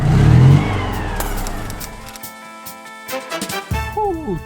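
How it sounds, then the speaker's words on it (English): A Citroën 2CV's 602cc horizontally opposed two-cylinder, 29-horsepower engine revs loudly up close at the start, then settles into a quieter idle with a few later blips. "Tommy, 602cc. Horizontally opposed 2-cylinder engine, so it's like a mid-size motorcycle, 29 horsepower"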